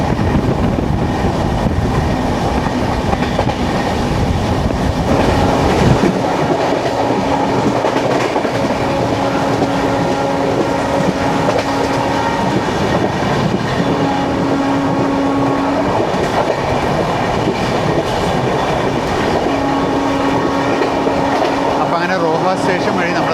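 Rajdhani Express 12431 (Thiruvananthapuram to Hazrat Nizamuddin) running through Roha station yard without stopping; a loud, steady rail rumble with clickety-clack and a humming drone fills the whole stretch.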